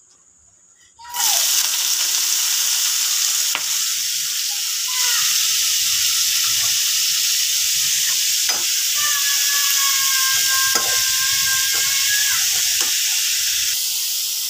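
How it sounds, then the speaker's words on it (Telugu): Spinach sautéing in a pan gives a steady, loud sizzle and hiss that starts abruptly after a quiet moment and carries on without talk, with a few faint stirring knocks along the way. "అదే ప్యాన్లో పాలాకు వేసుకోవాలి"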